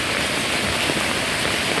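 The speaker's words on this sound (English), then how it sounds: "It's still raining." Steady heavy rain drums on a Mumbai street in the Fort area, a close, loud, continuous wash of falling water with no talking.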